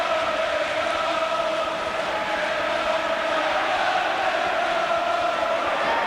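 A boxing arena crowd at the Fidel Bassa versus Dave McAuley fight keeps up a steady, dense roar of cheering and shouting throughout, loud and continuous with no breaks.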